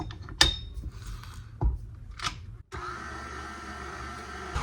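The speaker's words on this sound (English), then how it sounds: "We're gonna mix this around for about 10 minutes" An electric stand mixer works a dough made with sourdough discard, a steady mechanical whirring hum that starts after a few clunks and knocks, close and moderately loud.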